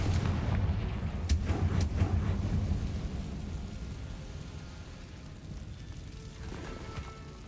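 Confringo spell blasting in a Harry Potter video game, a heavy booming explosion with sharp cracks near the start, then a rumbling decay that fades slowly into low background noise.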